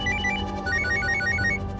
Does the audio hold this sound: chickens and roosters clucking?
no